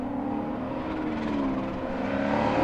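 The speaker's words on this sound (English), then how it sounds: "the engine sounds so sweet" A car engine at an autocross event drones steadily at a distance, its pitch rising and falling slightly as it revs, with no voices over it.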